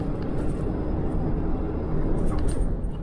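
Ratchet straps rattle loosely inside a moving truck cab, a continuous jangling clatter layered over steady road and engine rumble, with no talking.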